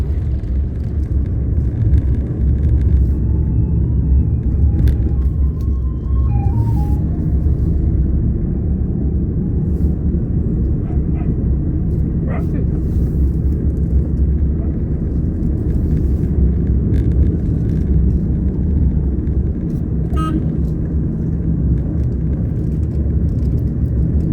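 A manual car's engine drones in a low, steady rumble from inside the cabin while driving and changing gears, with faint light clicks and taps scattered over the continuous road noise.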